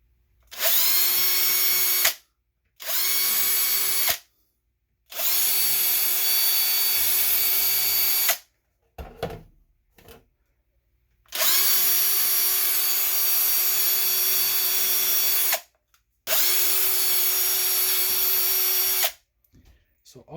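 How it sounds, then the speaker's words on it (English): Power drill whines loudly in repeated bursts of several seconds each, separated by short silences and a brief clatter, while boring holes out to 3mm in a 3D printed camper cap for an RC4WD Blazer body. "you can drill out the holes to 3mm, because otherwise you're going to have trouble getting the screws through"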